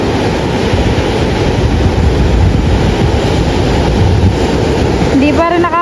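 Loud, continuous rushing of ocean waves around a small boat, a dense churning wash with heavy wind buffeting, steady throughout, with a faint voice creeping in at the very end.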